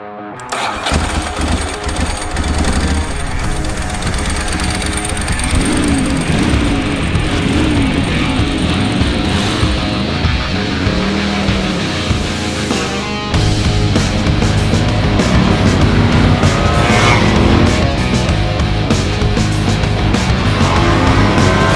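A 1994 Suzuki RGV 250 two-stroke racing motorcycle revs and runs under way, a loud, continuous buzzing engine with rising and falling pitch, heard alone with no talk.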